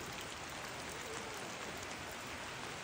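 Steady rain falls throughout, an even, dense wash of patter outdoors during a Toraja Rambu Solo' funeral ceremony at a tongkonan, with no voices.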